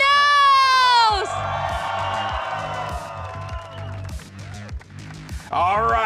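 Esports crowd at a VCT Americas Stage 1 match cheering and whooping for Sentinels, a loud roar that swells then settles into steady cheering under a voice talking over it.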